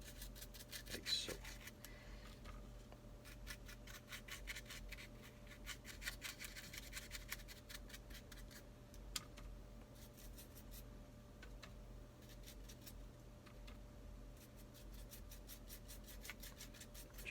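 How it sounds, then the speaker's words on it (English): A brush dry-brushes the tops of a carved wooden chair in a quiet, steady series of short scratchy strokes, faint and close, over a low hum. "Just sort of brushing the tops of it all."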